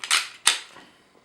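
Two sharp metallic clacks from a Glock 19 Gen 4 pistol as the magazine comes out and the action is checked, close and crisp, with a short ring fading after the second.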